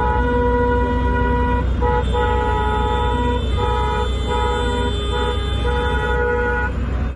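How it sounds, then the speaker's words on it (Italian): Car horns honk continuously over steady road and engine noise as Calabrian farmers and livestock breeders drive in a protest convoy along the Ionian state highway 106, several horns overlapping loud and close for the whole stretch. "questa mattina hanno fatto sentire i loro clacson lungo la statale 106 ionica"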